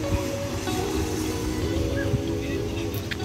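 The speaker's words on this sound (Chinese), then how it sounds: "听一下海浪声" Sea waves wash steadily onto a private beach at Shangri-La, Kota Kinabalu. A continuous close roar of surf runs throughout, with faint voices under it.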